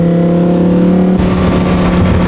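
Lamborghini engine revving loudly and continuously up close, a steady deep drone that shifts to rougher, crackling exhaust pops partway through.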